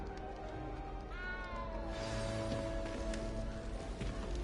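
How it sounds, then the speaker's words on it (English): A small cat in the video game Hogwarts Legacy meows once, clear and plaintive, over a steady bed of game ambience and background music. "You don't need to be frightened, little cat."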